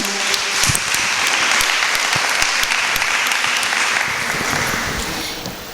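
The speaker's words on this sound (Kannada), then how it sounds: "ಅದ್ಭುತವಾದ ಚಪ್ಪಾಳೆ ಮೂಲಕ ಅವರನ್ನು ಸ್ವಾಗತಿಸಿಕೊಳ್ಳೋಣ." Sustained audience applause welcoming a speaker onto the stage at a women's forum event, a dense, loud wash of clapping that holds steady for several seconds and tapers slightly at the end.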